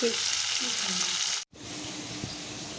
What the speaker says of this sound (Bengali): মাছ ভাজাটা যদি চাপিয়ে দিই তাহলে আমার খেতে খেতে মাছ ভাজাটাও হয়ে যাবে